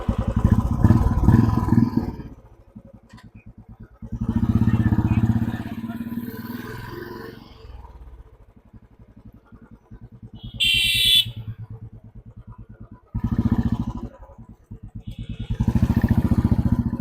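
A Royal Enfield Classic 350 motorcycle engine starts and runs with a steady low thumping idle, swelling louder in several revving stretches, plus a brief high beep partway through.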